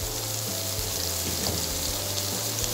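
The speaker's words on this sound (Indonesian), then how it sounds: "Sekarang kita tumis bumbu yang sudah dihaluskan. Ini minyaknya sudah panas. Kita masukkan bumbunya." Ground spice paste with galangal and bay leaves frying in hot oil for sambal goreng krecek, a dense continuous sizzle and bubbling with a low steady hum underneath, close and without talk.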